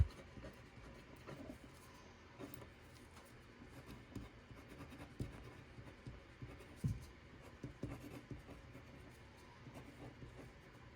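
Handwritten feedback goes down on paper with faint, irregular pen scratches and light tapping, close and quiet, with no talk.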